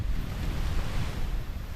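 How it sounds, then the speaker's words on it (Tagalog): Strong wind buffeting outdoors, a loud, steady rush with rumbling gusts battering the microphone, no voices. "Grabe, ang lakas ng hangin"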